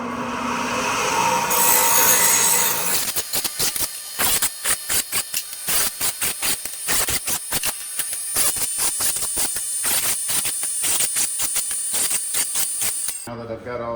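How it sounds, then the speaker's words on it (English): Angle grinder cleaning burrs off chop-sawed steel body mounts for a Model A, a loud steady whine broken by many rapid bursts of grinding contact, close up. "I'm going to take the grinder and clean those burrs off"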